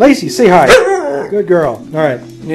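A pet dog gives a few close, short barks and yips indoors, interleaved with a person speaking to it.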